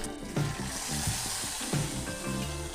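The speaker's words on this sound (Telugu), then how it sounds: "ఈ పోపును పెరుగులో వేసుకోవాలి." Hot oil tempered with cumin, mustard seeds, dried chillies and curry leaves is poured into yogurt, giving a soft close sizzle and hiss with a few brief bubbling bursts.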